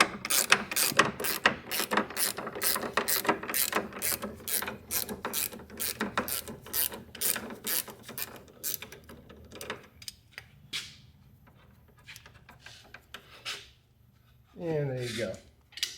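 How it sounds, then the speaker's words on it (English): Gear wrench ratcheting on a sway bar bolt of a 2003 C5 front suspension, a long run of rapid, crisp clicking up close that slows and fades, with a brief low scrape near the end. "I like using the gear wrenches because it makes life a lot easier."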